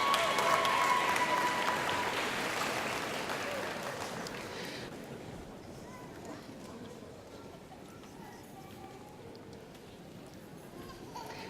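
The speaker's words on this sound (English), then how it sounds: "Please join me in a round of applause for our bachelor degree students within the Kroll School of Sciences and Mathematics." A commencement audience applauds graduating bachelor's degree students of the Kroll School of Sciences and Mathematics at a spring 2018 ceremony. Loud, full clapping from a large crowd gradually thins and fades into a quieter hall murmur.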